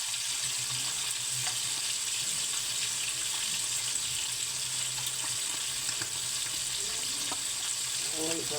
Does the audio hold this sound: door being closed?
no